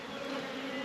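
A dense, steady hum of many Buckfast honey bees buzzing in an open, queenless hive, close and continuous with a droning pitch.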